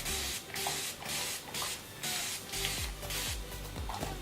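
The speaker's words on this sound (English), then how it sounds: "I'm going to spray my hair with water." Repeated short bursts of a spray bottle misting water onto 4B hair, about eight quick hissing pumps in a steady rhythm, close and fairly loud with faint clicking between sprays.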